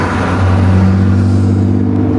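Engine of a van bought in the USA revving, a steady, heavy low rumble with a strong droning hum that holds loud and close throughout, no voices.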